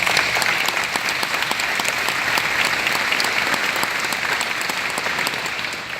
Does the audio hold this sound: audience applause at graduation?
yes